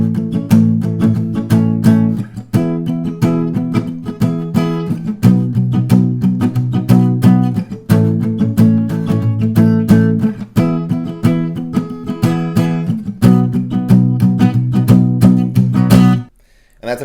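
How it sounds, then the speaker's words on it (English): Guitar playing palm-muted chords, a close, steady strummed chug of damped chords with short gaps at each change, loud and without speech, stopping abruptly near the end. "you're going to be playing this again while palm muting"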